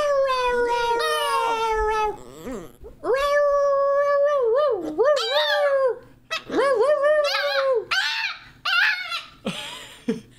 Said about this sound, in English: That's a Sheba scream, but imagine much louder